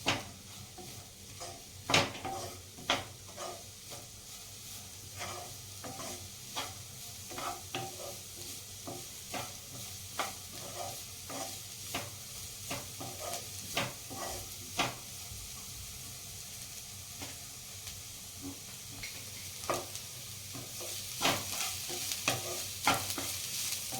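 Mixed vegetables, including chopped carrot, being stirred in a pan for hot and sour soup, with a steady sizzle under repeated sharp scrapes and clicks of the spoon against the pan, close and moderately loud throughout.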